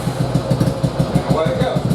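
A Yamaha Virago motorcycle with Mikuni carburetors fires up, its engine settling at once into a loud, close, rapid rhythmic thumping, with a voice partly heard over it.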